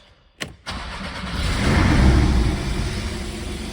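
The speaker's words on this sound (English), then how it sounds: "To start it, you stick the key like so. The fat end faces the left, foot on the brake, and turn it to the right." A 2022 Porsche 718 Boxster S with a 2.5-litre turbo engine is started with a key: a short starter crank, then the engine catches and swells to a loud, steady idle close by, with no talking.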